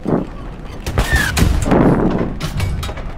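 Gunfire in the World War II shooter Hell Let Loose, a cluster of loud, close shots and mechanical clatter across the battlefield, with the bursts standing out over continuous background rumble.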